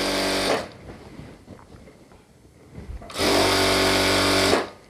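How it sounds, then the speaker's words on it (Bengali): A sewing machine stitches a bartack on a pair of half pants (shorts): two loud, close bursts of rapid mechanical whirring, the first short and the second longer, with a quiet pause between. "দেখেন আমি কিভাবে সেলাইটা ধরে এখানে বারটেক দিলাম"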